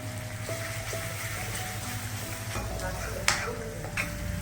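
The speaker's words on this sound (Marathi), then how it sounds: "ग्रेव्ही थोडी असं तेल सुटेपर्यंत छान अशी परतून घ्यायची." Gravy sautés in oil in a pan for a Punjabi rajma dish, a steady close sizzle and crackle with light stirring scrapes and a sharp clink near the end.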